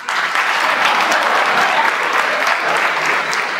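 A comedy-show audience breaks into loud, dense applause, a steady wash of clapping that holds evenly from start to finish.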